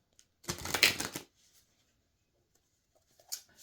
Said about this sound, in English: So I'm shuffling.